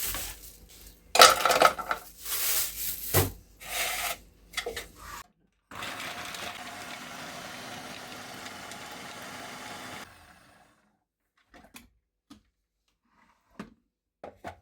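Garlic cloves minced in a food chopper for an oven-baked flathead fish tray: several loud whirring bursts of the motor in the first seconds, then a softer steady grinding run, trailing into quiet with a few small knocks.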